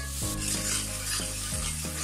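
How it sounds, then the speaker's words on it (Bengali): Turmeric and chili powder masala fries in a pan, sizzling loudly up close while a spatula scrapes and stirs in about three distinct strokes, with no one speaking. "এবারে মশলাটাকে আমি কষিয়ে নিচ্ছি একটু ভালোভাবে"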